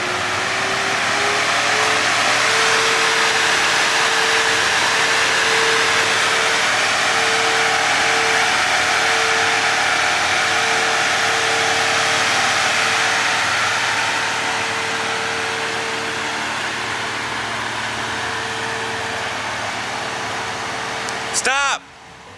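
A BMW M4 G82 with newly installed downpipes running a stage tune, its engine idling with a steady, loud drone for about twenty seconds while the car backs out, ending in a short sharp burst.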